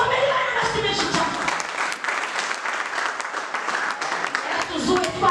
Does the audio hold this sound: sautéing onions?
no